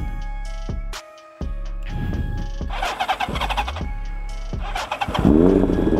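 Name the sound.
inline-four 738cc motorcycle engine starting, SC Project exhaust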